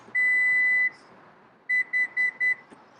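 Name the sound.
Lexus UX power liftgate confirmation beeps when setting height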